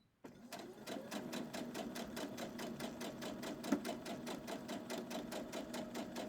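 A sewing machine runs continuously while chain piecing a patriotic star quilt block, its needle tapping in a fast, even rhythm close to the microphone with no pauses.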